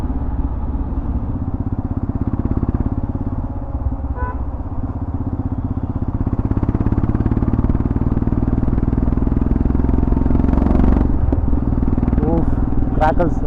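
A modified, stage 2 tuned Himalayan 411 motorcycle idles nearby with a deep, loud exhaust rumble, punctuated by a few sharp crackle pops toward the end, with a voice talking over it.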